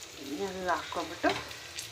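Tomato, coriander, ginger and garlic fry in a pan with a quiet, steady sizzle, broken by a few brief clinks and stirring scrapes.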